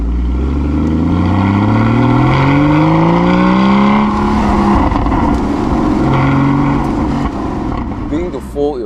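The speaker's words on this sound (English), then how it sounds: "Just want to hear the exhaust. It just sounds brilliant." Exhaust note of a car being worked through the gears, rising engine pitch climbing with each upshift then dropping, loud and close, with a voice talking over part of it.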